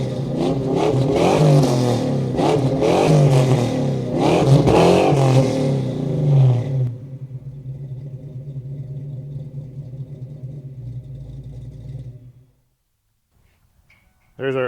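A Fox Body Mustang fitted with a FlowMaster exhaust revs from about 8 yards away, loud bursts rising and falling over roughly seven seconds, then settling into a steady lower idle rumble before cutting off.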